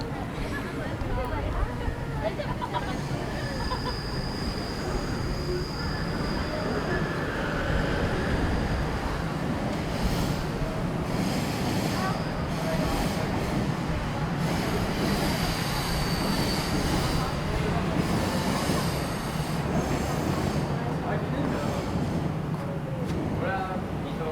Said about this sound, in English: we have to walk right under the Yamanote line train tracks